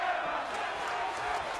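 Wrestling crowd at a Ring of Honor Global Wars 2015 match roaring for Colt Cabana, a steady dense wall of cheering and shouting that holds at full level throughout.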